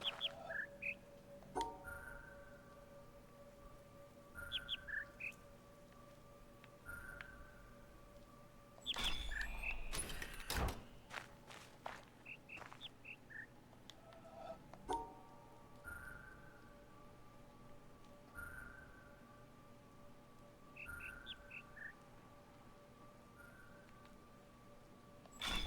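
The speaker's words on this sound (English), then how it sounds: "listen to the birds song, which is indicated because it's got all these speakers" Birdsong from loudspeakers in The Witness video game: short repeated chirps and trills recurring in phrases over a steady ambient hum, with a brief burst of clatter partway through, fairly faint overall.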